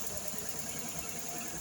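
Freshly rebuilt RB20 engine idling on a cold morning start, a continuous low, slightly uneven rumble with steady mechanical hum, roughened by a small exhaust and air leak.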